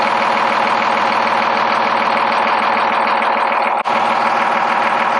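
A car engine idles steadily after a cooling system repair and upgrade, a loud, even running drone that continues unbroken apart from one brief dropout near the end.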